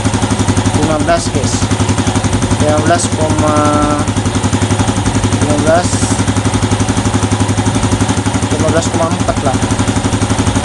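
A motorcycle engine idles steadily right after being started during a battery charging voltage check, its running drone continuous under close talk from people nearby.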